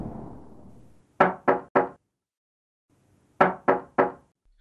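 Someone knocks on a door in two sets of three crisp raps, close and clear, with a pause between the sets and a faint fading rumble before the first.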